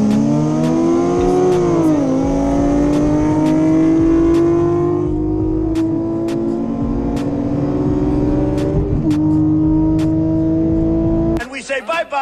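Close, loud engine of a Nissan 370Z under acceleration in a race, a steady climbing drone with a couple of gear shifts, ending in a short burst of rougher noise.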